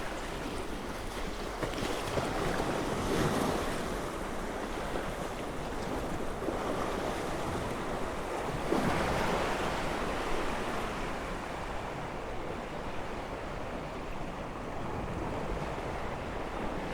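Harbor water at Avalon on Santa Catalina Island surges up and splashes against cement-fixed shoreline rocks, rolling washes rising and falling over steady wind rumble, with no talk.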